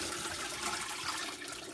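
Wet Romney wool is lifted out of a tub of rinse water, giving soft, quiet splashing and trickling as water streams off, with no voices.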